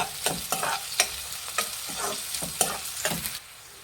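Finely chopped onions sizzle in a hot pan with chilli powder added, while a spoon scrapes and stirs them in a steady rhythm of close, sharp clinks over a continuous frying hiss.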